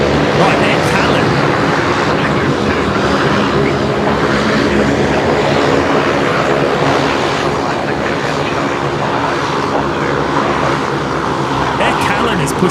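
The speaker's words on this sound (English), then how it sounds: "Air Callan is pushing back, so that's the A330 Neo that we're looking out for." Airbus A330neo pushing back at Brisbane Airport, heard as a steady, loud, broadband engine and ground roar that holds throughout with no clear breaks.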